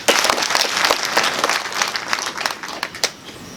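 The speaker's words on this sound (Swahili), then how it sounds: "Piga makofi kwa hawa." Mourners at a memorial service for an elder applaud in thanks, a burst of many hands clapping that starts loud and gradually thins into scattered claps.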